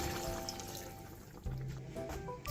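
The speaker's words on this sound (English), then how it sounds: "We're gonna add some water." Water poured into a pot of dinuguan, a Filipino pork blood stew with white turnips, filling with a soft steady trickle and a fuller gush partway through, close and quiet.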